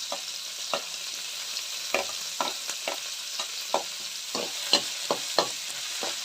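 Onions and ginger-garlic paste fried together in a pan, a soft continuous sizzle under regular scraping strokes of a spatula, roughly two per second, close and moderately loud.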